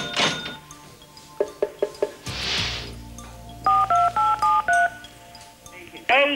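Telephone keypad dialing tones on a 1996 Dutch TV game show, a run of about six evenly spaced beeps in the middle, with studio talk and bumps before and a brief sound at the end.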